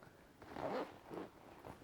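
A RiderBag backpack zipper pulled in a few short, soft strokes, close and quiet, with no talking.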